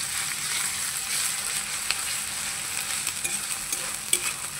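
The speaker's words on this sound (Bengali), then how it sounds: "পেঁয়াজটাকে আমি এইভাবে একটুখানি ভেজে নেব হালকা" Onion frying lightly in a pan gives a steady close sizzle, with small clicks and scrapes from occasional stirring over the hiss.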